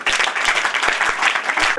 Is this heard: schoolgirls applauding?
yes